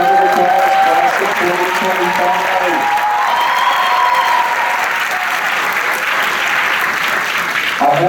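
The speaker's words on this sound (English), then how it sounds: "Let's give them a special round of applause" A crowd at a high school senior graduation applauds the class of 2025 with full, steady clapping that carries on for several seconds, while a voice speaks over the start.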